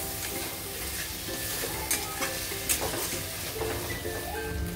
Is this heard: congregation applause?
no